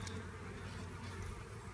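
A steady, dense drone of many honeybees buzzing close by at a hive, continuous and even throughout with no talking.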